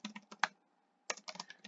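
Close, quiet keystrokes on a computer keyboard come in two short bursts of rapid taps separated by a brief pause.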